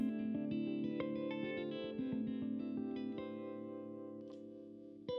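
Harmony Jupiter Thinline electric guitar strummed with a pick, full ringing open chords with effects and a touch of echo, played alone at a steady moderate volume.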